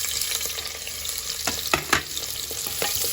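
Chopped onion frying in oil inside a pressure cooker pot while making vegetable pulao, a steady sizzle with a few stirring scrapes and clinks, close and moderately loud.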